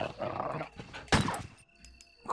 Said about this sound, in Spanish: El perro que va a saltar la reja.